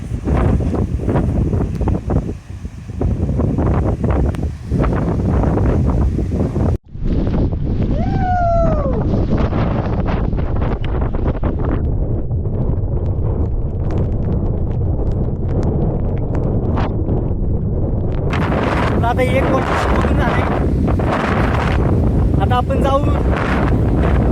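Strong wind blows hard at a waterfall near Raigad during rain, pushing the falling water back upward. Continuous loud gusts roar and buffet the microphone, with people talking at times.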